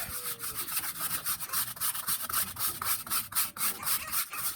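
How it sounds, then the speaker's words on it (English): A scrub brush scouring a tire sidewall, a rapid run of rhythmic back-and-forth rubbing strokes, close and steady throughout with no talking. "you're not going to get your red Georgia clay off even with a one-touch cleaner without the scrubbing action"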